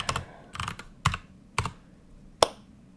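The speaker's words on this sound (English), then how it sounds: "I'm not typing well today." Computer keyboard typing while coding in Python: five sharp, separate key clacks spread over three seconds, close and fairly quiet, with no talking.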